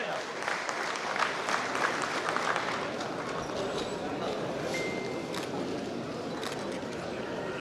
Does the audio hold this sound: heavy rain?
no